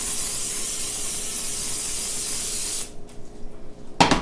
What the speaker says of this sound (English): put Pam in